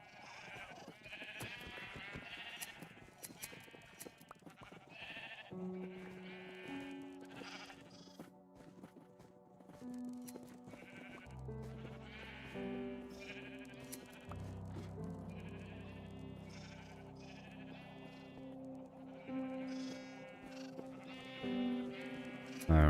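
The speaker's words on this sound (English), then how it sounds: "And I'm starting to multiply some sheep" Sheep in Minecraft bleat repeatedly, many overlapping calls near and far, over soft game music with sustained tones.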